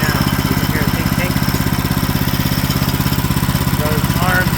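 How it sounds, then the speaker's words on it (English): Small engine at high idle with its centrifugal clutch arms flying out and tinking against the clutch drum, the steady close engine pulse running throughout while someone talks over it. "You can hear a tink tink."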